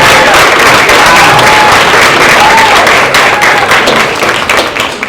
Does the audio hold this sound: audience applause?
yes